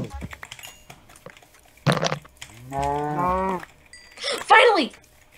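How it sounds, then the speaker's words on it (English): Cows in the Minecraft video game give several drawn-out moos, one long low call followed by a higher strained one, loud and close, with brief clicks and game noises around them. "Okay, I found cows."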